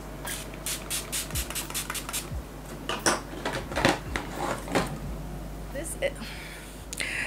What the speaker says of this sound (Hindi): अपने फेस को मैं सेट करूंगी यूजिंग एल्फ का मेकअप सेटिंग स्प्रे